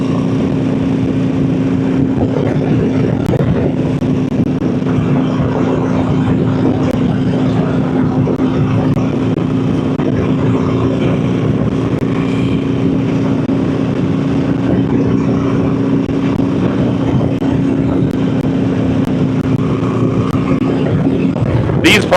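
A motorcycle engine drones steadily throughout a commute through Memphis, a constant low hum with road and wind noise, close and loud for the whole ride.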